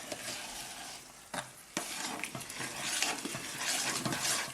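Polenta meatball mixture being stirred in a bowl, a soft wet scraping and squelching that runs continuously with a few sharper clicks, quiet and close.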